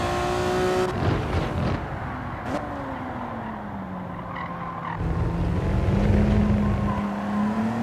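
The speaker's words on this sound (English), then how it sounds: "Now with the engine being behind you in this car, it is crucial to get the front end pointed where it's going" Rear-engined Honda NSX lapping Tsukuba Circuit in Gran Turismo 7, its engine note holding a steady tone that rises and falls in pitch through corners, with a brief burst of tire noise near the start, loud and continuous.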